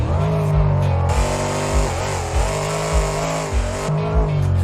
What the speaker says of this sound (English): Another trick that monster trucks can do is a wheelie.